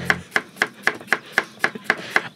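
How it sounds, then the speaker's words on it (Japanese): A knife chops vegetables for bonito tataki on a board in quick, evenly spaced strokes, about nine crisp taps, close and clear. "包丁さばきが見てて気持ちいいですもんね"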